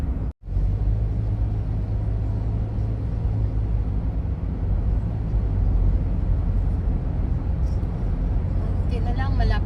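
Busy road traffic heard from inside a moving vehicle in the Philippines, a steady loud engine and road rumble that holds without a break, with many vehicles around.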